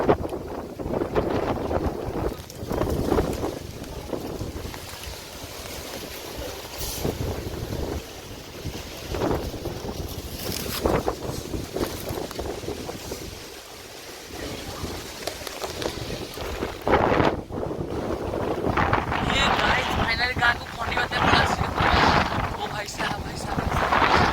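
Strong wind blowing during a heavy rainstorm in a village, a loud, gusting rumble that surges and eases throughout, with people talking over it.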